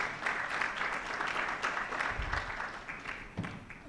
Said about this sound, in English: May we clap for all those certifications and vehemently for Meticulous